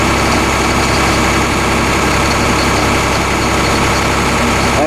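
Old tractor engine running steadily while unloading shelled corn, a loud continuous low rumble with vibration and no break, close to the machine with no voices.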